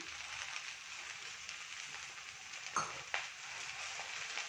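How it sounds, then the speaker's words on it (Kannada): Food frying in a pan during home cooking, a soft continuous sizzle heard close but faint, broken by two brief clinks or stirring knocks near the end, with no talking. "ಸ್ವಲ್ಪ ಫ್ರೈ ಆಗಲಿ ನೋಡಿ"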